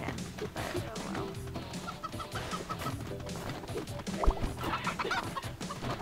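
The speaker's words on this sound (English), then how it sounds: "this is a fucking chicken" Chickens cluck repeatedly in the video game Moving Out, several short clucks scattered over busy game music and effects at moderate loudness.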